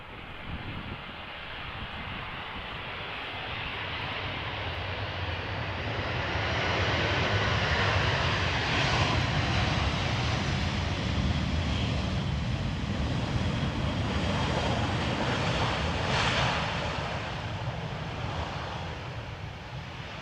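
Aer Lingus Airbus A320 airliner in old livery, arriving from Dublin at Amsterdam Schiphol, makes a broad, steady jet engine roar that swells to a loud peak midway and holds there, with no voices.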